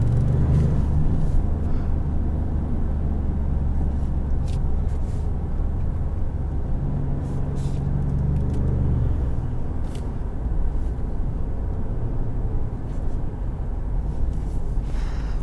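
A 2020 Ford Expedition Max with a 3.5-liter twin-turbo V6 drives along, a steady low engine drone and road rumble heard from inside the cabin, with no talking.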